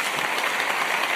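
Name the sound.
applause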